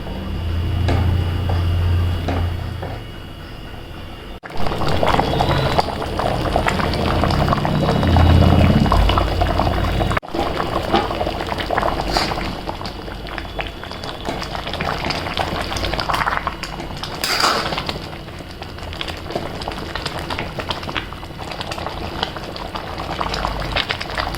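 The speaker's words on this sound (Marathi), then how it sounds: "पाच ते 10 मिनिटे साखरेमध्ये छान शिजवून घ्यायचा." Raw mango pieces simmering in sugar syrup in a pan, a steady bubbling and sizzling boil that runs throughout at close range, with occasional clatter and stirring.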